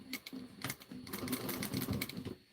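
A sewing machine stitching a bar tack on a pocket, a fast burst of needle strokes in short rapid runs that speed up into a steady whir, close and fairly quiet, with no voices.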